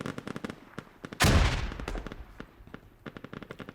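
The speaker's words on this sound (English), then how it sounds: "nice grenade launcher hit there" Grenade launcher impact in the Squad military shooter game: one heavy, close blast with a long rumbling tail, set among scattered sharp rifle shots before and after.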